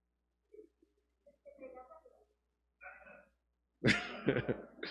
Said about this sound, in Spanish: Entonces ya comenzaron a ver toses